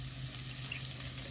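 Onions frying in a pan with ginger and garlic that have already browned, cooking for a fish curry: a steady, soft crackling sizzle that stays even the whole time, with no talking.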